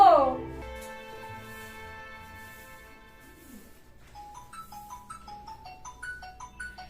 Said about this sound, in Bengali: ফোন এসছে